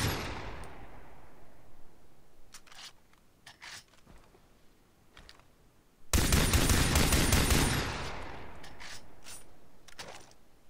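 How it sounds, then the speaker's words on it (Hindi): Gunfire from a gun being tested in the Far Cry 3 video game: sharp shots with metallic weapon handling, then a loud sustained burst of rapid fire that fades into a few more scattered shots. "अब हम दूसरे गन को टेस्ट करते हैं"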